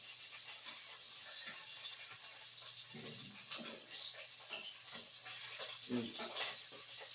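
Pork dumplings fry in hot oil, giving a steady, busy sizzle with scattered pops and splatters throughout, fairly close, while someone speaks intermittently over the cooking noise.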